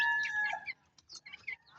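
A freshly caught rooster crowing, one bright call near the mic followed by shorter broken notes, in an otherwise quiet setting with no talking.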